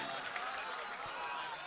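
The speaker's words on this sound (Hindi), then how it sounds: "तालियां बजाइए, तालियां।" Crowd applause at a mushaira poetry recital in Ahmedabad, a steady wash of clapping from a large audience, continuous and fairly even across the moment with scattered voices mixed in.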